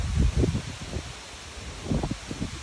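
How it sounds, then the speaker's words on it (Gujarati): Strong hurricane winds of 50-60 mph gust and buffet the microphone in low rumbling bursts, with faint rustling between them and no talking. "50-60 માઇલની સ્પીડે પવન ફૂંકાય છે."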